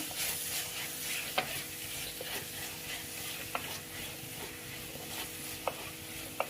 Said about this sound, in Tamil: இந்த எண்ணெயிலே நல்லா வதங்கட்டும்